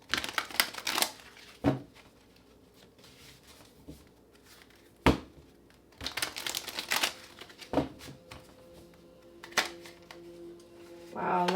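Tarot cards shuffled by hand during a reading: a run of crisp riffling and snapping card bursts, close and moderately loud, separated by quieter handling pauses, with no talk over them.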